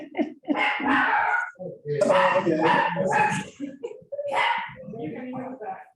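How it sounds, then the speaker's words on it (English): A dog barks and yips through a Zoom call during a contracts class, the barks mixing with several people talking over one another. "Is that a Zoomer dog, or is that one outside?"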